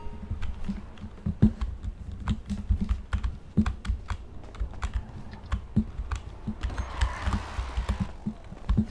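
A computer keyboard is hammered hard and fast, with sharp, uneven clacks and a few heavier thumps, close and dry, with no voices.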